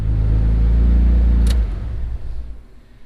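Mitsubishi 3000GT engine cranking and catching with the throttle feathered, loud low rumbling that surges near and then settles and fades toward a quieter idle, with a brief sharp click partway through.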